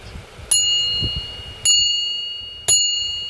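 Metal spool of a Sigma fishing reel struck three times, each strike a bright ringing bell-like ping that decays slowly, with faint handling noise between strikes.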